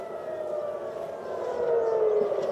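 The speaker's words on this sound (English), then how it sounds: "very distinctive sound of air raid sirens there over Tel Aviv, the city" Air raid sirens wail over Tel Aviv, a steady distant rising tone that swells slightly louder toward the end, heard alone without talk.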